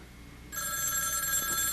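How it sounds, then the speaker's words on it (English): A telephone bell starts ringing about halfway through and keeps on steadily and fairly loud over a quiet room, with no one talking during the ring. "Do you know your phone is ringing?"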